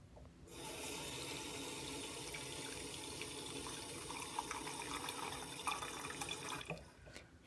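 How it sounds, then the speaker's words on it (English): Running water pours steadily into a pot of dried herbs, calendula and yarrow among them, a continuous splashing fill that lasts several seconds before tapering off near the end. "Add some water."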